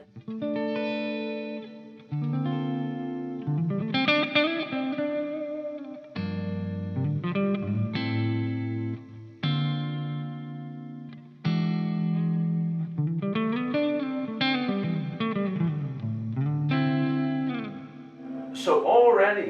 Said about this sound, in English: This is my kind of reverb.